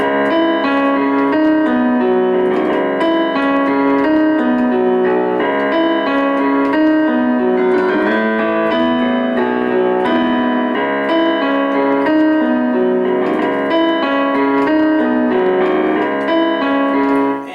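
A solo piano plays a steady, full rock-style arrangement of a song with chords and melody, continuous and fairly loud throughout, with no voices.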